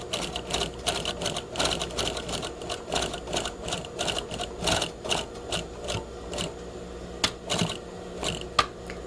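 A sewing machine stitches a pocket flap seam with a one-eighth inch allowance, sounding as a rapid, close mechanical chatter in bursts, with brief pauses and a few clicks between runs.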